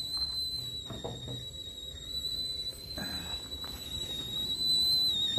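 Camp coffee brewing on a stove at an overnight forest campsite, its whistle a steady high tone running throughout over soft outdoor background rustle and faint clinks.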